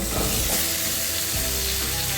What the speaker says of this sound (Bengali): ওই কড়াইতে আর সামান্য কিছু তেল দিয়ে ওই পটল আর আলুগুলোকে হালকা ভেজে নেব